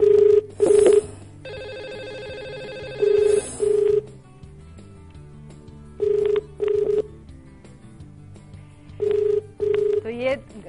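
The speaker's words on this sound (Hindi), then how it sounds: "ये अभी बेल बज रही है, जो हमारी लकी कॉलर हैं उनके पास, उनके फोन पर" An outgoing call to a radio phone-in's lucky caller rings out as a repeated telephone ring tone, loud double bursts in steady cycles with a low hum and gaps between rings.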